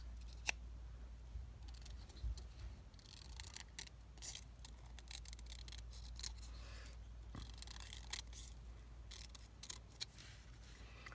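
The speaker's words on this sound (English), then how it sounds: "And then I'm just going to cut around the outline of the" Scissors snip around a cardboard outline in quick, irregular close clicks and crunches, faint but distinct over a quiet low hum.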